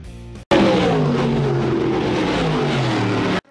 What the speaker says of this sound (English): Chuck Alessi and Scott Goodrich would bring the CRSA Sprint cars down the front straightaway